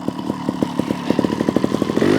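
A GasGas TXT 300 trials motorcycle idles after warm-up with the choke off, its two-stroke engine firing in a rapid, even, close putter that quickens slightly toward the end, with no talking.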